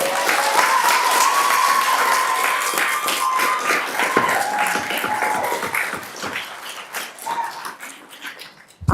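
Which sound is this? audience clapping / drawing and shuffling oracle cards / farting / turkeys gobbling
audience clapping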